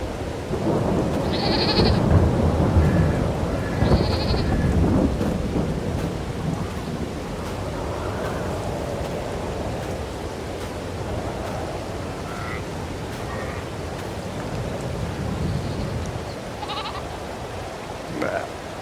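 Steady rain hiss with low rumbling thunder throughout in Farming Simulator 22, loud and continuous, with a few faint animal bleats and brief chimes over it.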